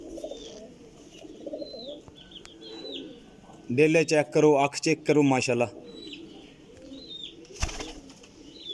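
Low pigeon coos and faint chirps murmur steadily in the background while someone speaks loudly in a short burst midway, with a single sharp knock near the end.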